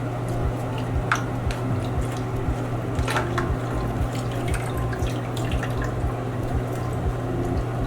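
A decorative beaded face mask being washed submerged in water, with soft squishing, sloshing and dripping in a steady rhythm, close by over a constant low hum.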